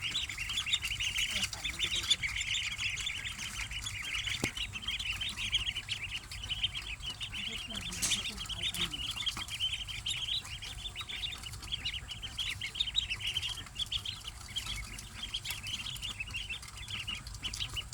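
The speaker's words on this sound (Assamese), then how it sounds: "হাঁহ পোৱালি দানা দি আছোঁ, খাইছে।" Ten-day-old ducklings in a village setting peck at feed grains, giving steady soft peeping and chirping throughout, with light pecking noise and a low murmur of background voices underneath.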